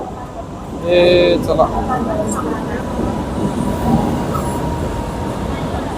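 An express train pulling into Bandra Terminus station, a loud rumbling roar with a brief horn-like tone and some wheel squeal, while a voice speaks briefly over the noise.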